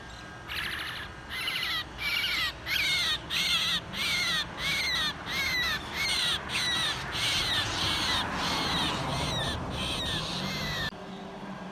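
An injured wild bird gives a long series of harsh, crow-like caws, about a dozen rapid rhythmic calls close by and fairly loud, ending abruptly, with no speech.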